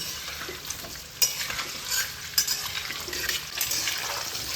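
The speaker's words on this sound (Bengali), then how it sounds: "পেঁপের কাঁচা গন্ধটা কাটানোর জন্য আমি পেঁপেগুলোকে ভেজে নিচ্ছি।" Steady crackling sizzle of papaya pieces frying in hot oil, with occasional sharper pops and stirring scrapes, close and continuous, no voices.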